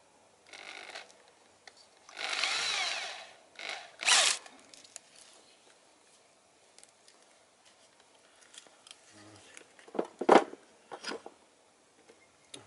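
An ordinary electric drill fitted with a homemade knife-sharpening attachment whirs in a few short bursts, separated by quiet pauses and light handling clatter.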